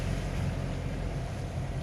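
Strong cyclone wind from Cyclone Fani in Odisha, with rain: a loud, steady broadband roar that stays constant and unbroken, with no talk over it.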